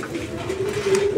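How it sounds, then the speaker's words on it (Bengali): Pigeons coo at a busy pigeon market, a single low, rolling call swelling up close over a murmur of background noise. "এখানে আরো এক জোড়া কবুতরের কালেকশন আছে"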